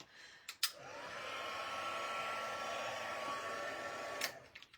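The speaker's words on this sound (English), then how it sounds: "So I am just going to turn my heat tool on now." A card-embossing heat tool clicks on and runs as a steady whirring blow for about four seconds before clicking off, with faint handling knocks around it.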